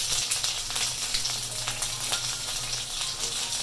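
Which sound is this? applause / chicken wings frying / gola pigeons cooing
chicken wings frying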